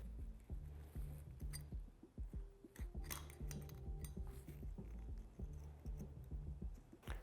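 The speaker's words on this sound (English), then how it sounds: "I'll go ahead and remove that clip" Rapid metallic clicks and scrapes of a retaining clip being pried out of a KYB rear shock absorber, a close, busy series of small clinks and taps over a steady low hum, with no talk.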